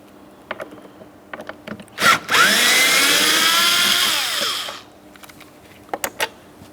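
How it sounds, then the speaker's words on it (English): A power driver spins out a T20 Torx screw inside a Chrysler Town & Country door panel in one loud whirring burst of about two seconds, close up, with light clicks and handling before and after. "we have another T20 torque screw to be removed. Let's go ahead and remove that now."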